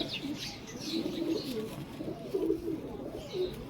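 A pigeon held in the hand gives low, soft cooing notes in short repeated phrases, quiet against a faint background hiss with a few light higher chirps.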